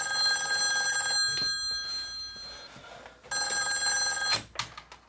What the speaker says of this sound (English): Oh great, the phone.